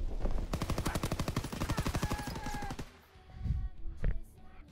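Rapid M16 automatic gunfire in a video game, a fast steady burst of shots lasting over two seconds, then a short pause and a couple of softer thuds.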